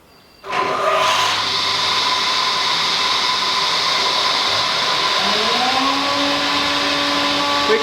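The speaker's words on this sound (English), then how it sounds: "I'm going to run the saw, the dust extraction unit, and then I'll turn the kettle on and see what happens then." A saw and dust extraction unit powered by an off-grid solar system start up with a sudden whir and keep running steadily and loud, a tone shifting partway through, close by with no talking.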